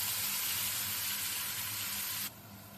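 Nigella seeds, turmeric, green chili and tomato sizzle steadily in a hot pan for a paneer gravy, a close, even hiss that holds for a couple of seconds before dropping off abruptly.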